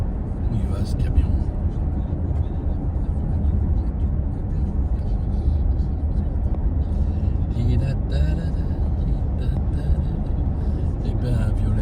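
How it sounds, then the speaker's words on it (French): A truck rolling along a road in France near Avignon, heard as a steady rumbling road and engine drone from inside a moving vehicle, with people talking over it. "Où il va ce camion?"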